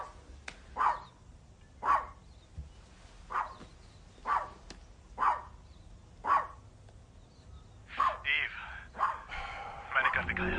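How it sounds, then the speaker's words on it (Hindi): A dog barks in a regular series of sharp, fairly close barks spaced about a second and a half apart, becoming busier and overlapping toward the end. "भौंकना बंद करो"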